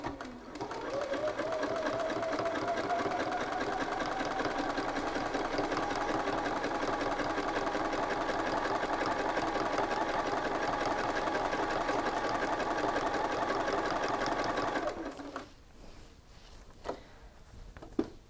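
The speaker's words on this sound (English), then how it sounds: "I am edge stitching with my edge stitching foot" A sewing machine with an edge stitching foot runs steadily, needle shifted three positions left, stitching across a shirt yoke seam for about fifteen seconds, then stops, leaving a few faint handling clicks.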